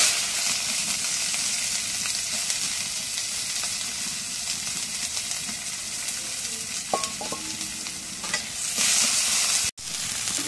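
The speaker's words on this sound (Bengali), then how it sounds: "এখন কড়াই পেঁয়াজ কাটা দিয়ে দিই।" Sliced onions fry and sizzle in a hot wok for a sustained stretch, with steady hiss and occasional scraping of a stirring utensil, briefly cutting out near the end.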